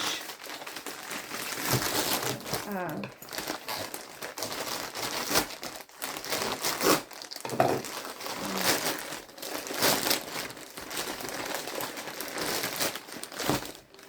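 A crinkly plastic mailing envelope is torn open and handled, producing loud, continuous close-up crinkling and crumpling with sharp rustling bursts throughout.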